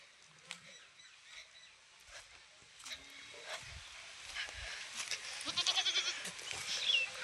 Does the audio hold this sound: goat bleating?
yes